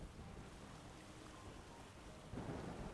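A thunderstorm rolls in within the Windbound game world, a steady faint wash of rain and low rumbling that swells a little louder near the end, with no talking.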